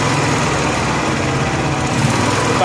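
Honda gas-powered welder generator engine with a fuel delivery problem running continuously, a loud close droning hum with slight surging in its tone, no talk.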